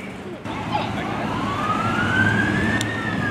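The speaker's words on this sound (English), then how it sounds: "more fire trucks are coming" A wailing fire truck siren rises and sweeps through the air from a short distance, heard over a low rumble of traffic.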